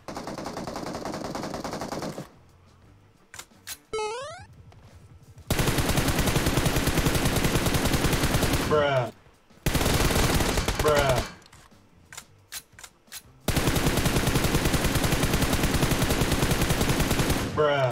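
Long rapid-fire automatic gun bursts from the mobile battle-royale game PUBG Mobile, loud and dense, broken by short gaps with quieter clicks and sliding weapon-handling tones between volleys.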